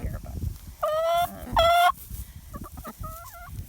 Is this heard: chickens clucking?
yes